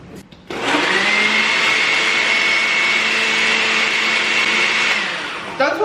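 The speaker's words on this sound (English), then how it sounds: "this is a cheap blender and sometimes she needs a little help" A cheap kitchen blender whirs steadily at a high, strained pitch while blending jollof rice ingredients, starting abruptly and running continuously for about five seconds before winding down.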